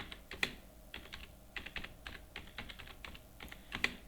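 Fingers type on a computer keyboard in a quiet room, a close, soft stream of irregular keystroke clicks with a few sharper taps.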